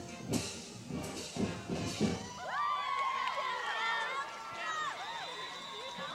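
A crowd cheers and shouts at a 2004 high school football game between Wayne Hills and Bergenfield, with high-pitched whoops and calls rising over steady distant noise after a short stretch of voices.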